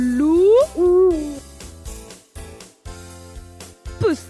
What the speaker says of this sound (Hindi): उल्लू,